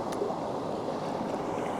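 Swift River water rushing through Coos Canyon in Maine, a steady broadband wash of flowing current heard up close with no break.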